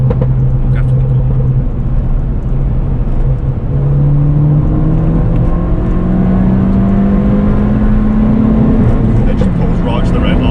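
Ford Fiesta ST with a TRS Stage 2 tune at about 250bhp accelerating hard toward the red line, its loud engine note climbing steadily in pitch through a long continuous pull.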